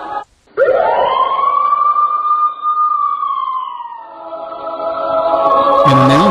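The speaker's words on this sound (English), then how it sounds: "You hear the siren." A loud siren wails up and holds a long rising-and-falling tone, close and dominant, with a sharp electronic chirp at the end.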